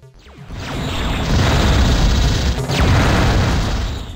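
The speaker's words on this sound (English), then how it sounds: "it looks like I'm using the Vulcan cannon. Shoot these guys." Loud dense burst of rapid-fire Vulcan cannon shots and booming impacts in the 1994 Descent video game on iOS, a sustained roar with sweeping tones, close and without speech.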